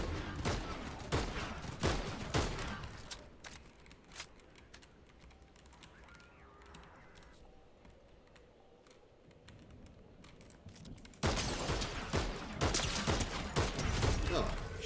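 Bursts of gunfire in a video game, loud clusters of sharp shots at the start and again near the end, separated by a quieter stretch of low ambience and clicking keys.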